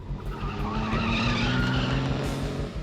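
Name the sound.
white pickup truck speeding in police chase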